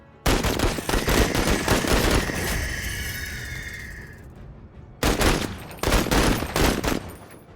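Gunfire in the video game Menace, several loud close bursts of rapid automatic shots with ringing tails, a pause near the middle, then more bursts.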